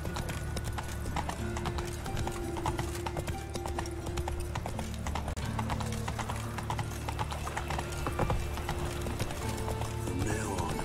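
Roach the horse gallops in The Witcher 3 video game, a dense, continuous clip-clop of hooves with a neigh, steady and close over game ambience.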